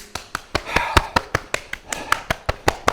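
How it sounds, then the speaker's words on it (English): Hands clap and slap against the body in a steady, even rhythm, about four sharp strikes per second, during a Shotokan karate class warm-up; the slaps are loud and close. "clap your body."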